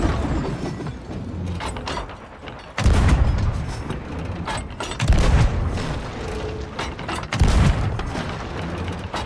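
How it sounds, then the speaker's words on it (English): Ship cannons firing chain shot in the pirate game Sea of Thieves, heavy booming blasts landing in a few separate bursts over ongoing crashing and rumbling, loud and close. "I got some good chain shots on these guys right now"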